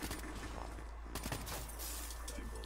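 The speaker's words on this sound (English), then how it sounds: "using the shotgun" Shotgun blasts in Black Ops 3 multiplayer gameplay, a few muffled bursts of gunfire within dense, loud game noise.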